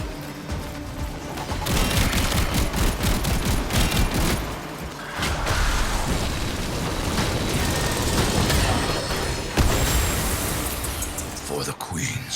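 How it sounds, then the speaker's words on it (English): Dense, continuous gunfire and explosions from the video game Warframe rattle throughout, loud and chaotic, with a voice talking over the combat noise. "Could you stop shooting at me, you scumbags?"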